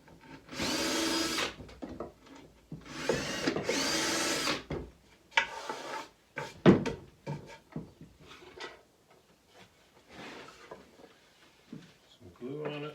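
A drill countersinks screw holes in a wooden desk, with several short close whirring bursts separated by pauses, the last ones briefer, and a voice speaking between them.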